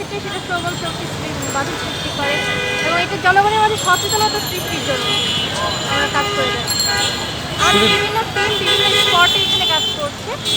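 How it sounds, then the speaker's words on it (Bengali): Traffic rumbles on a Dhaka street while car horns toot repeatedly in short bursts, overlapping one another, with people talking loudly over the street noise. "অযথা হর্ন"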